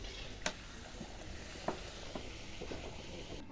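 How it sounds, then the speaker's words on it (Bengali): Luchi frying in hot oil give a soft, steady sizzle with occasional small pops and ticks, faint and close, no talk. "এদিকে দেখো লুচি ভেজে নিচ্ছি এই যে তেলে দেখো লুচি হয়ে যাচ্ছে"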